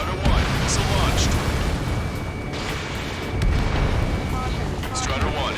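A missile strikes and destroys an armored personnel carrier in Ace Combat 7, giving a rumbling explosive boom that rolls on with bursts over steady jet noise while radio chatter plays.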